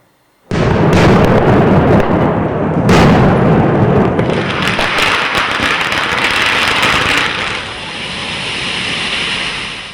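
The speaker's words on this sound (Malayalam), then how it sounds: "3 മണിക്കൂർ മാത്രമാണ് പടക്കം പൊട്ടിക്കാൻ അനുവാദം ഉണ്ടായിരുന്നത്" Diwali firecrackers set off under a three-hour limit burst after a brief quiet, starting with a sudden loud blast and continuing as a dense, crackling roar with a second big bang, then tailing off into a steadier fizzing rumble.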